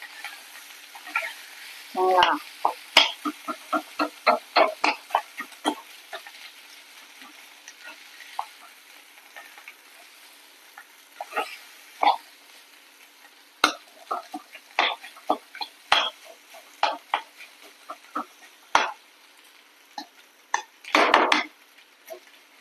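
Potatoes frying in oil in a pan, stirred hard and often, with a faint sizzle under a long run of quick, close metallic scrapes and clatters, some in rapid bursts and others spaced apart.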